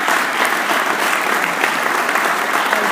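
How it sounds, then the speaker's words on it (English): Dense, steady applause from a large audience at a State of the City address fills the hall, loud and continuous throughout with no voices over it. "Let's give them a round of applause."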